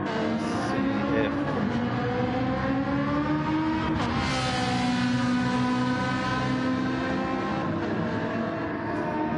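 A race car at Fuji pulls away, its engine note rising and shifting in a continuous loud drone as it accelerates. A commentator talks over it.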